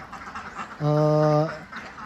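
A laying duck on a duck farm gives one loud, drawn-out nasal quack close by, set against a low murmur of background noise.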